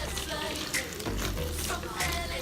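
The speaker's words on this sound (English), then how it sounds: "I'm going to fill it up with vinegar" Vinegar pours steadily into a container for a baking soda volcano, a soft continuous trickling splash heard close and fairly quiet, with no one talking.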